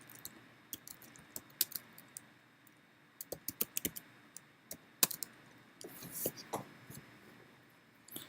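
Irregular bursts of quiet, crisp clicks from someone typing on a computer keyboard, with pauses between flurries and a faint voice murmuring in the background.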